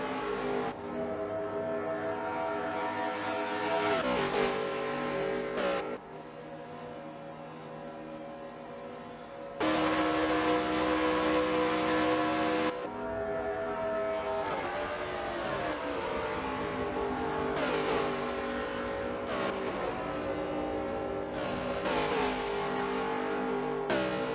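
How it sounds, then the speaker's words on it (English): Race car engines roar continuously in a NASCAR racing video game, with sustained loud revving, shifting engine pitch and abrupt cuts between cars as they drive in the draft, with no talk. "Send It Media is driving like a man possessed."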